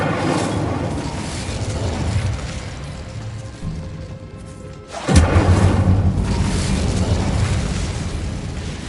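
The Incendio fire spell in Hogwarts Legacy builds through a rushing roar, then erupts in a deep, loud whooshing burst about halfway through that keeps rumbling strongly to the end.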